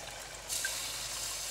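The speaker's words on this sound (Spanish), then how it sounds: "así que le vamos a añadir el agua" Water poured into a hot pan of rice sets off a sudden hissing sizzle that starts partway through and keeps steady, fairly quiet, with no voices.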